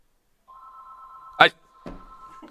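A home landline telephone rings with a steady electronic tone, interrupted by a loud burst of speech and a second voice fragment over it.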